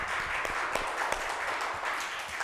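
A church congregation applauding steadily during an online service, many hands clapping together in a continuous patter at moderate distance.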